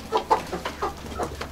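A small hen clucks in a short series of soft, close calls, fed grapes in a backyard coop among roosters and chicks.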